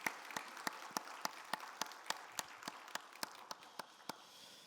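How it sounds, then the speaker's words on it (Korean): A church congregation gives a slow, sparse round of applause at an early-morning special prayer service, roughly a dozen distinct, evenly spaced claps ringing out over a faint room hush. "우리 박수 한 번 더 해드릴게요."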